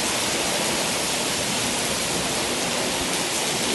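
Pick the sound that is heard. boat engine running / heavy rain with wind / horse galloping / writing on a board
heavy rain with wind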